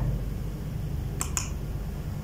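Two quick mouse clicks sound in close succession over a low steady hum while WordPress downloads on a PC, crisp and near, with no voices.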